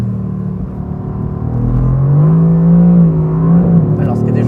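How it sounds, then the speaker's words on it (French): A Mercedes-AMG GT R engine (585 hp) revs up and accelerates close by, its rising growl swelling loudly over a low rumble. "première accélération au volant de l'AMG GT-R"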